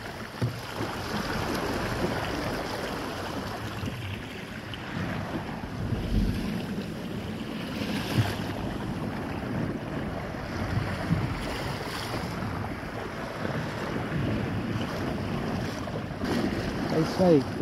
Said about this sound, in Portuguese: O vento tá com a boa intensidade